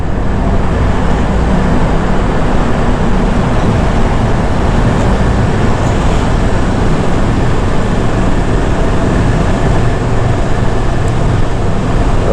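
Vehicles rolling through the Atal Tunnel on the Rohtang highway, a steady, loud, enclosed roar of road and engine noise that holds unbroken throughout with no voices.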